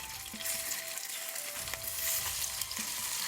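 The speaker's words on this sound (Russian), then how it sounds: "Мясо хорошо промариновалось, и сейчас его обжариваем на сковороде." Marinated beef sizzles and crackles loudly in a hot pan, a continuous hiss with occasional pops and scraping stirs.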